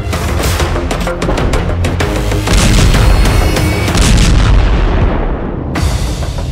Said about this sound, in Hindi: हेलफायर के धमाके से दहल गई पुतिन आर्मी।